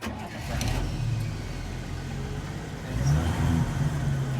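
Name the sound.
1965 Chevy C10 engine cranking and starting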